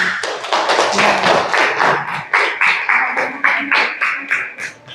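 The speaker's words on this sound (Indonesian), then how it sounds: "Boleh tepuk tangan untuk Tessa, Cika, dan Saki." A classroom of students clapping for classmates, a loud, close burst of quick hand claps that settles into a slower, even rhythm of separate claps before fading.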